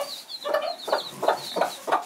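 A rooster and chickens cluck close by in a steady run of about five throaty pulses, with fainter bird calls behind.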